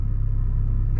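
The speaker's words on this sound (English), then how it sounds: "so you can hear the burbles and stuff when it downshifts" A 2021 Toyota Supra with a muffler delete and stock downpipe, its exhaust giving a steady, deep low rumble that stays even and fairly loud throughout, heard alone with no talk.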